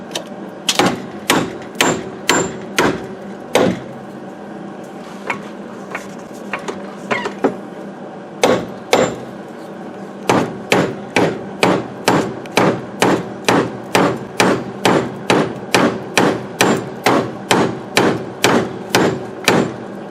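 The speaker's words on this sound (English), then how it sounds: "take your beautiful roofing hammer, give it some nice tacks and whacks" A roofing hammer strikes tacks repeatedly and sharply, in quick runs of blows with short pauses between, loud and close, ending in a long steady series of hits, with a rainstorm going on.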